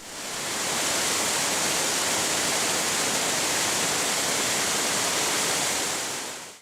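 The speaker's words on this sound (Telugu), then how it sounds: "ఇక్కడి నుంచి చూస్తే వాటర్ ఫాల్స్ ఎంత అద్భుతంగా ఉన్నాయి" A waterfall seen from stairs climbing above it on the way to a hillside cave shrine gives a loud, steady, close roar of rushing water that fills the whole stretch without a break.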